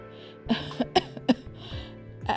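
A series of sharp, close coughs, about four bursts in quick succession, followed by a brief throat-clearing rasp.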